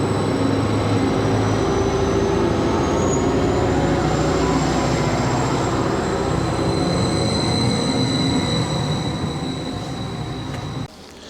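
A train running toward Ipswich through the Anglia countryside, heard as a loud, continuous rumble of wheels on track with high metallic squeals layered on top, cutting out abruptly near the end.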